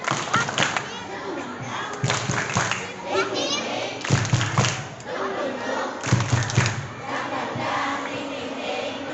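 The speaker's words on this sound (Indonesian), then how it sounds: "Yuk, tepuk semangat." Schoolchildren in a literacy session do a rhythmic spirit clap, bursts of group clapping and thumps in a repeating pattern, mixed with children's voices and shouts throughout.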